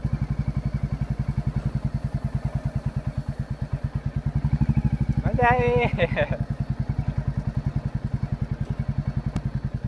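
A Royal Enfield Bullet motorcycle ridden in a Gujarati village, its steady thumping single-cylinder exhaust pulsing loudly and evenly throughout, with a brief burst of clatter midway and a person speaking over the engine.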